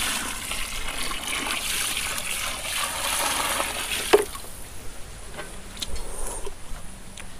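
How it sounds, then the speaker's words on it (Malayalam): Water pours and trickles steadily into a cooking pot holding buffalo leg for a Wayanad-style dish, with a brief splash partway through and softer dribbling afterward. "വെള്ളം ആഡ് ചെയ്യുന്നുണ്ട്."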